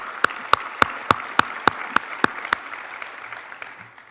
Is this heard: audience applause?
yes